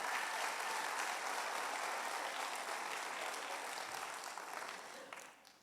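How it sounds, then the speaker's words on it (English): Applause from an audience at a middle school law swearing-in ceremony, a broad continuous patter of many hands at moderate distance, steady for several seconds before thinning and fading out. "So we need another round of applause,"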